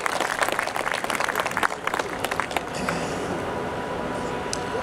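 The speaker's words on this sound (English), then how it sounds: "Can I ask you for a big applause?" An audience at an awards welcome reception bursts into loud clapping that thins out midway, leaving a continuing roomy murmur of crowd noise.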